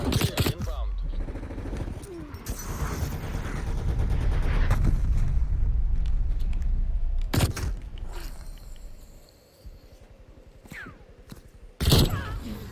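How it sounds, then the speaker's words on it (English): Artillery fire in Call of Duty Black Ops Cold War: a run of loud blasts and explosions that rumble through the first half, then scattered sharp bangs against quieter in-game sounds, with a radio-style announcer voice heard briefly. "Hostile artillery turret. Artillery inbound."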